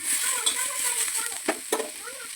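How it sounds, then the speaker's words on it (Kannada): Ingredients for obbattu sambar roasting in a little oil: a soft, steady sizzle with scraping stirs and a few sharper spatters, heard under a person talking. "ಸ್ವಲ್ಪ ಎಣ್ಣೆ ಹಾಕೊಂಡು ಸ್ವಲ್ಪ ರೋಸ್ಟ್ ಆಗೋ ತನಕ ಫ್ರೈ ಮಾಡ್ಕೊಂಡು"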